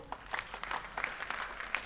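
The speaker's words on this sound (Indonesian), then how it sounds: "tepuk tangan buat ibu-ibu" A short burst of clapping from a church congregation, steady and moderately loud, with many hands clapping at once.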